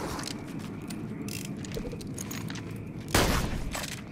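Gunfire in the Borderlands 2 video game during a Halloween event level: a dense rattle of shots runs throughout, then a sharper, louder burst of fire breaks in near the end.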